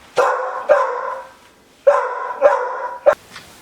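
A dog barks in two short bursts, each of two or three harsh, drawn-out barks with a final sharp yip, loud and close with quiet gaps between and no talk over it.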